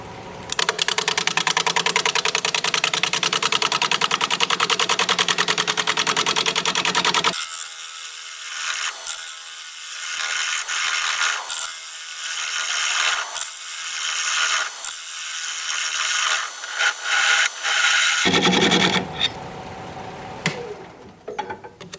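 Wood lathe turning a butternut bowl at a little over 600 rpm with a freshly sharpened 5/8 inch bowl gouge, a steady loud broadband cutting roar with a gap in the low end through the middle stretch.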